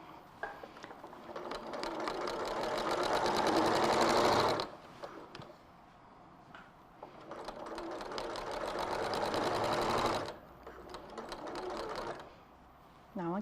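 A sewing machine stitching a quilt runs in two long bursts of rapid, buzzing needle strokes separated by short pauses, close and clear with no speech over it.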